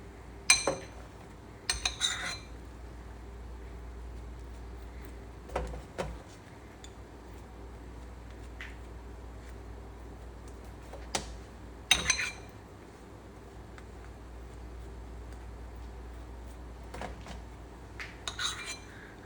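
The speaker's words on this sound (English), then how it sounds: "I know you all love that I'm buttering the bread with a spoon" A spoon spreading butter on bread to go with BBQ shrimp: metal cutlery gives sporadic sharp clinks and scrapes over a steady low hum across about twenty seconds, and nobody speaks.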